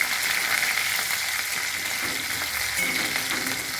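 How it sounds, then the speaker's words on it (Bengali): Chopped ingredients for a spinach and chickpea dal frying in a pan over a medium gas flame, a steady, dense hiss and sizzle close by with faint scraping, no talking. "দিয়ে গ্যাসটা মিডিয়ামে করে এইগুলো ভাজবো"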